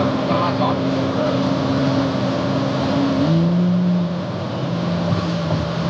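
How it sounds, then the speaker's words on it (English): A car engine revs up and accelerates on a road, a steady loud drone with a rising pitch shift partway through, heard from inside or close by, with voices faintly under it. "that's when Jack decided to pull the brilliant move of accelerating instead of slowing down"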